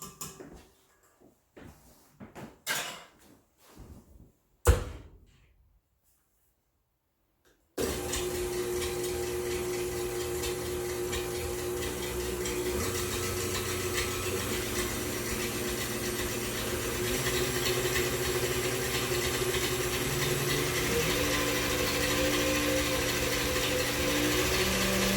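After a few scattered clatters and a brief silence, an electric mixer whirs steadily and close, blending wet ingredients with heavy cream for keto pumpkin muffin batter.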